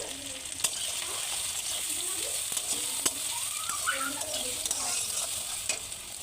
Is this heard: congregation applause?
no